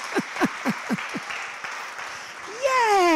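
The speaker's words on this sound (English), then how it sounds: "can we re-rehearse that clap that you just gave me when I came up?" Audience applause at a choir concert in a church nave, a broad steady patter running under a speaking voice that rises into a sustained vocal tone near the end.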